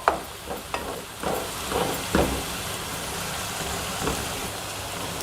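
Spiced potatoes for an aloo gravy frying in a pan, a steady close sizzle broken by a few sharp stirring scrapes and clinks of the spoon.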